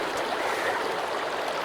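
A flowing stream in the survival video game Sons of the Forest, a steady soft rush of running water heard on its own at moderate level.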